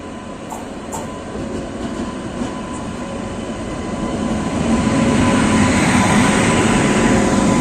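The Ektanagar–Dadar Western Express rolls along the line, heard from on board as a dense rumble of wheels and carriages that grows louder and heavier partway through, with no speech.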